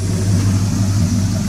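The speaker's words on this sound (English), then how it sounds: "I recently made some exhaust modifications today" A 2004 Toyota Tundra pickup with a modified exhaust rumbles loudly and close, its deep, steady engine note holding with only slight swells, and no talk.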